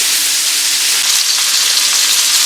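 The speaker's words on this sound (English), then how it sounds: "Now I have the last of it in the frying pan." Steady, dense sizzling of venison cubes frying in a hot pan, a close, continuous crackle and hiss with no voices.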